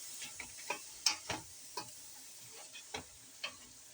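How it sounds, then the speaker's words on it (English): Onion and kale fry in virgin olive oil as sukuma is cooked, giving a faint, steady sizzle broken by soft stirring scrapes at irregular intervals. "I just put onion with some oil, virgin olive oil, and I put kale inside there."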